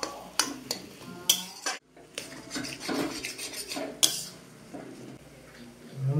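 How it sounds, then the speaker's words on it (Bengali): A spoon scrapes and clinks against a metal pan as mashed potato is stirred together with spices for egg chops, with irregular scraping and knocks, a brief pause, then more stirring. "ভালো করে আমি এবার এটাকে মশলার সঙ্গে মিশিয়ে নেবো"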